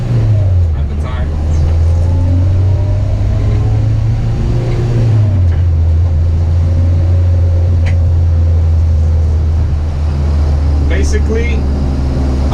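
A car engine revs and settles as gears are shifted without the clutch, holding a steady droning hum that drops in pitch partway through, loud and close inside the cabin with someone talking over it.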